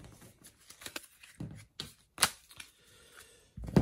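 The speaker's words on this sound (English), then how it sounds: "Shuffle the encounter deck." A deck of cards for the Marvel Champions card game is shuffled up close in quiet, irregular bursts of riffling and flicking, with soft taps between them.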